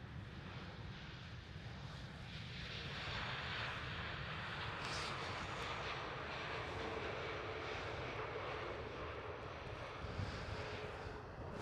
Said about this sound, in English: This is Pegasus with the Airbus